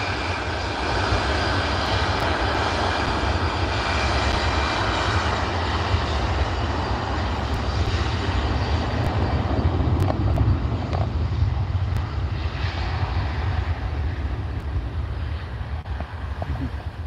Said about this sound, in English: This is your EasyJet flight off to Alicante.